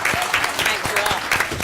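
An audience at a press conference in Toronto breaks into steady applause, a dense patter of clapping with a voice talking over it.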